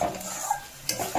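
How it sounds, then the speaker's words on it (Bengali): Spice masala with garam masala being stirred and fried in oil in a pan, with a steady sizzle and a few scraping strokes of the spoon against the metal. "তেলটা যতক্ষণ না পুরোপুরি উপরে উঠে আসবে ততক্ষণ আমি কষাতে থাকবো।"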